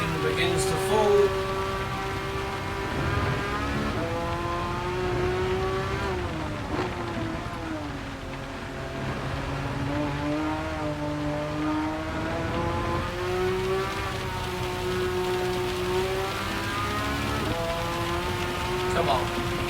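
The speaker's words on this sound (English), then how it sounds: "Rain begins to fall." Rain falling in a Gran Turismo 7 race, a soft steady hiss beneath the tonal drone of a car engine whose pitch rises and falls with gear changes.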